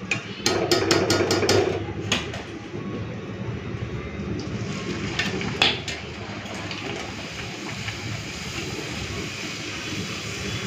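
Luchi, a puffed flatbread, frying in hot oil while pressed down, giving a steady close sizzle with a few sharp clicks and spatters near the start.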